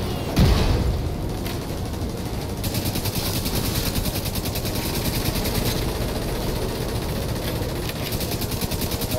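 Rocket impact and sustained combat noise in The Division 2, a deep boom early on followed by a dense, continuous wash of gunfire and rumbling explosions, loud and unbroken throughout.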